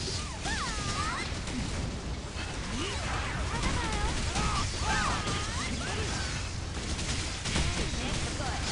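Video game explosions in a Dragon Nest boss raid: repeated crashing blasts and impacts, dense and loud, layered under chaotic battle effects with people talking over them.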